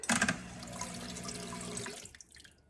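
A DIY glaze fountain pump for pottery runs with liquid glaze pouring and splashing, starting with a burst, then a steady rush that fades to light dripping, close and alone.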